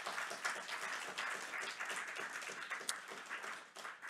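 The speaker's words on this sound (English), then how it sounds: "So let's give a warm round of applause for everyone that's here today." An audience in a university lecture hall applauds, dense steady clapping from many hands at moderate distance, fairly faint overall.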